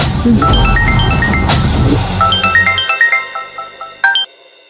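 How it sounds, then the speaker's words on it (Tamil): A melodic electronic ringtone plays a run of bright, rising tones, emerging from a loud noisy wash that drops away, then ends with a few chimes. "ஏய், ஆனந்தி தானே கால் பண்றா."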